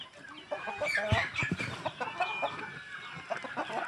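Native chickens cluck in a backyard, several birds sounding close by in short, uneven bursts with a few sharper calls that continue steadily throughout.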